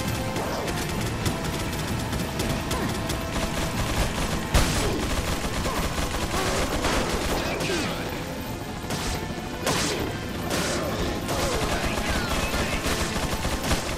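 Dense, loud gunfire from the Resident Evil 4 video game on PS4, rapid overlapping shots and impacts crackling almost continuously with a few louder bangs, game sound effects filling the whole stretch.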